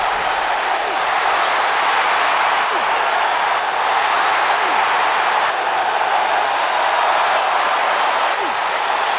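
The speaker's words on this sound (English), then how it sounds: "by the sound of this crowd, I think they're getting what they wanted." A wrestling arena crowd roars and applauds in a dense, continuous wash of cheering that holds loud and steady throughout, with no individual voices standing out.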